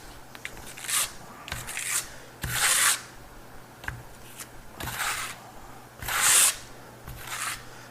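Venetian plaster being spread thinly across a wall with a trowel, a series of about eight distinct rasping scrape strokes, close and fairly loud, separated by short quiet gaps.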